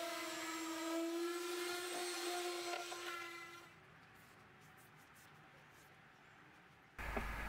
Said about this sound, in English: I decided I would give it a good sanding down outside